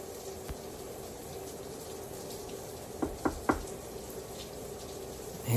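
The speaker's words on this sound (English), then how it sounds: "Sounds like they're in the shower." A shower runs in the background as a steady, even hiss of falling water, with a few light knocks and taps partway through.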